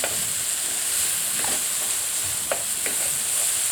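Minced meat frying for spaghetti bolognese gives a steady close sizzle and hiss, with a few soft scrapes of a spoon stirring through the pan.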